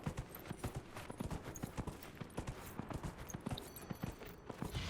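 Horse hooves galloping in the video game Dragon Age: Inquisition, a quick, steady clip-clop of close, sharp hoof strikes running unbroken throughout, with faint ambient sound behind.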